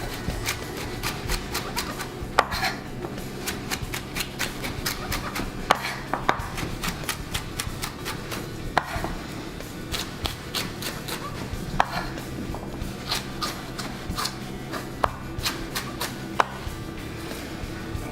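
A knife slices a jalapeno thinly on a cutting board for slaw, producing rapid, regular taps against the board that continue almost without pause, close and crisp, with no talking.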